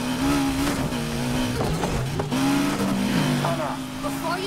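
A race car engine drones and revs in NFS Heat, a steady high-pitched whine that rises and falls with gear changes and brief tire squeals, under a voice talking.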